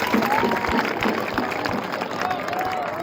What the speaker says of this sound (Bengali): তোমাদের জন্য আবার একটা হাততালি